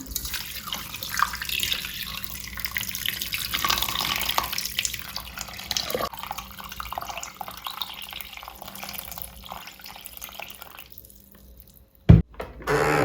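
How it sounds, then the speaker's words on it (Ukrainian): Water runs steadily into a pot of salted ingredients for several seconds, a continuous splashing rush, followed by a brief clank. "І тепер заливаю все водою."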